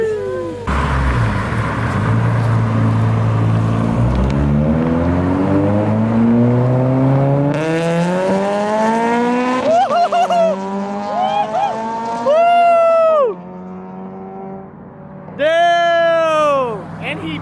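Acura RSX fitted with a PLM header and a Skunk2 Megapower RR 3-inch exhaust, its engine climbing steadily in pitch under acceleration, then giving several sharp, loud revs close by.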